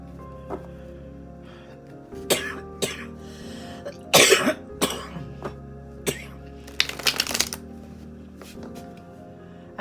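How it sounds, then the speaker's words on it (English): A person coughs and clears their throat several times in sharp, separate bursts during a tarot reading, with soft card shuffling and handling noises between the coughs in a quiet room. "I apologize about my coughing."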